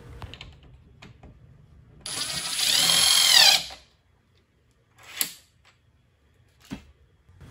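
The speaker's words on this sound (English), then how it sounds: "you might need to apply some pressure when screwing in your screws" A screw being driven into a foosball table hole that is not pre-drilled, giving a loud grinding, whirring burst of about one and a half seconds, followed by a few faint knocks and clicks.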